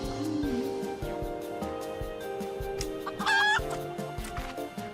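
Enkidu, a chicken-like creature in the video game Final Fantasy 14, clucks repeatedly in a rhythmic run over steady game music, with a brief bright chime partway through.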